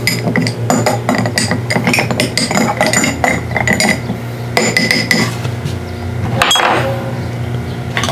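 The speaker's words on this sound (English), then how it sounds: "And then just give it a stir." An old fashioned cocktail stirred in a glass with a cherry inside: quick, bright, repeated clinks of the spoon against the glass, loud and close, with no talk over them.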